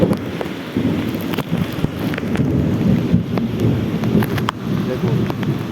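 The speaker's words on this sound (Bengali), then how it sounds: "সেই বৃষ্টি হচ্ছে" Heavy rain pours onto a rooftop, a loud continuous hiss with scattered sharp drop impacts and some wind rumble against the microphone, steady throughout.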